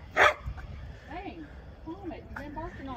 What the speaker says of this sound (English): You've been barking all day.